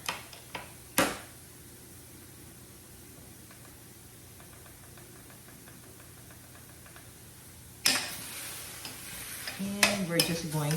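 Japchae beef and vegetables sauté in an 11-inch Saladmaster skillet, a faint steady sizzle broken by a few sharp clinks early on and louder stirring scrapes and clatter toward the end.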